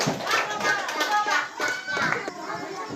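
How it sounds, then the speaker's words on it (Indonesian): Classroom applause for a student group: scattered, uneven clapping from children mixed with chatter and young voices, moderately near, coming in bursts rather than a steady roll. "tepuk tangan untuk kelompok"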